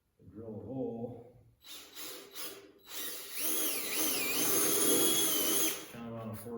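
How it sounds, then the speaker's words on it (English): Power drill boring a hole in the bottom plate of a wooden marten box, a loud steady whir with rising and falling pitch after a few short bursts, with someone talking before and after. "on the bottom plate of the box, in the center, in the front, I drill a hole"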